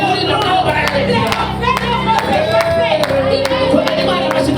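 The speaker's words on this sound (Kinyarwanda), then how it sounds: "Komera Imana amashyi mu izina rya Yesu" A church congregation claps and cheers together during a prayer service, steady rhythmic applause layered with crowd voices throughout.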